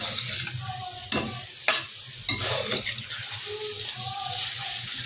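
Spiced gobi aloo of cauliflower and potato is stirred in a sizzling pan, with steady frying hiss and several louder scraping stirs spaced through the clip, close up and with no talking.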